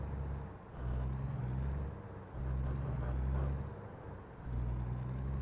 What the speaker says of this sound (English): The changing of the gears.